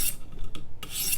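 Rasping strokes of a ZT Hinderer Slicer knife blade on a sharpening stone, two bright gritty passes at the start and end with a softer rub between, close and alone.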